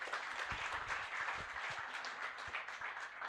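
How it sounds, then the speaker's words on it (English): An audience at an award ceremony for a hospital competition applauds: a dense, continuous patter of many hands clapping at moderate distance, with a few sharper individual claps standing out and no pauses. "A big round of applause to all our presenters."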